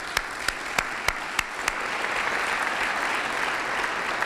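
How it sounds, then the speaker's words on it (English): An audience at a university gubernatorial debate gives a round of applause, opening with several loud, evenly spaced claps before swelling into sustained, full clapping from the crowd. "Let's give them a round of applause for that."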